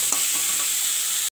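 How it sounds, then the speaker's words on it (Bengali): Chopped onion, garlic and chilli sautéing for a Bengali aubergine dish, a steady close hiss of frying oil with a few soft stirring scrapes, cut off abruptly. "পেঁয়াজ কুচি, রসুন কুচি আর লঙ্কা কুচি দিয়ে দিই, দিয়ে আরও ভালো করে এগুলোকে কষিয়ে নেব"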